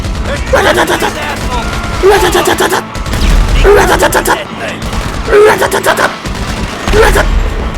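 Video game gunfire in GTA 5 during a heist mission: bursts of rapid shots and impacts come in repeated clusters, loud and close, mixed with game noise and a voice talking over the action.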